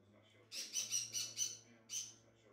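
A pet bird indoors gives a quick run of five sharp, harsh squawks, then pauses and lets out one more, close by over a quiet room hum.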